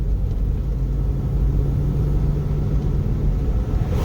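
A car engine running steadily with a rebuilt junkyard 4L60E transmission now in third gear, a loud, even low rumble that holds throughout without voices.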